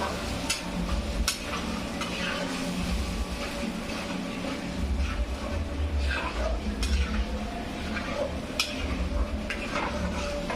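Pasta sauce ingredients, including tomato puree, chili flakes and oregano, are stirred in a pan with a soft sizzle underneath, the utensil repeatedly scraping and tapping against the metal.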